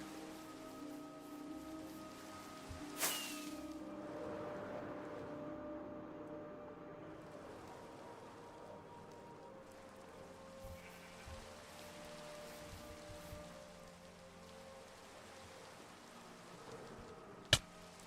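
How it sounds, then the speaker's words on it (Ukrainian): Steady rain falls in a Minecraft-style video game, a soft continuous hiss with faint drops throughout, and a couple of brief louder sounds along the way. "Йой, дощ ся пустив."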